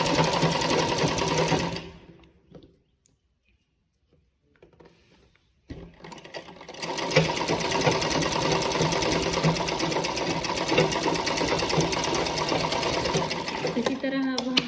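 A sewing machine stitches along the edge of a blouse sleeve in two loud, steady runs, stopping for a few seconds of near silence between them.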